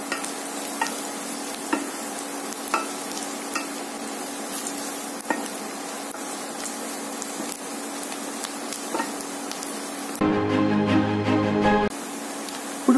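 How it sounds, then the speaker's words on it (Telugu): Onions with chili powder and cumin are stirred in a frying pan for Punjabi-style rajma curry. A soft, steady sizzle runs throughout, with periodic spatula scrapes and a louder, denser stretch near the end. "ఇంతవరకు వేసి ఆనియన్స్ అంతా బాగా కలిసేలా కలపండి."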